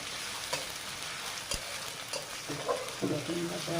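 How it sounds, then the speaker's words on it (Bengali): Garlic paste and chopped onion frying in oil in a pan, a continuous close hiss and sizzle with occasional stirring clinks and scrapes. "রসুন বাটা ভেজে নিয়ে রসুন পেঁয়াজ ভেজে নিলাম"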